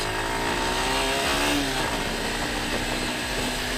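A Mondial Vultrei 125 motorcycle engine roars continuously at high revs through a racing exhaust, a loud, rough drone that holds steady throughout.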